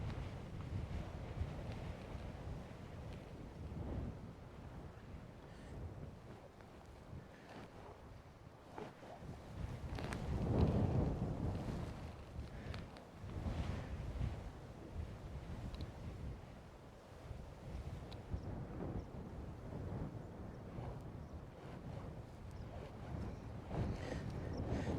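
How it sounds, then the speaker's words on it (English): Blustery wind gusting on a riverbank during salmon fishing, a steady rough broadband roar with stronger buffeting surges around the middle, continuous and fairly close with no talking. "It's getting quite blustery"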